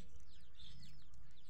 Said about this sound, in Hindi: ये देखिए कितने प्यारे प्यारे कबूतर है ना।